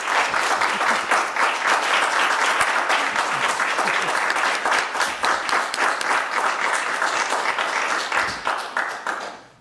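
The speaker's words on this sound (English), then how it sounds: "Can we give these candidates a round of applause?" A room full of people at a candidate forum in Winooski, Vermont, applauds, dense steady clapping that carries on for several seconds before tapering off at the end.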